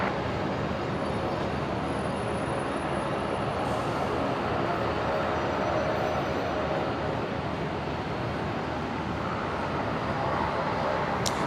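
An airplane taking off from runway 01 right at Brisbane Airport, heard as a loud, steady broadband engine roar that holds constant throughout.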